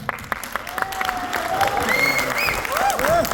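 Audience clapping at a Mohanlal fans and cultural welfare association celebration for the film Thudarum, steady dense applause from a crowd throughout, with some voices and whistle-like tones mixed in.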